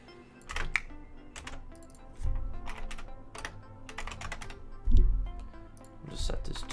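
Fast bursts of computer keyboard typing with uneven rhythm and short pauses, close and fairly clear, while a person talks over some of the keystrokes during work on porting Halo to Unity.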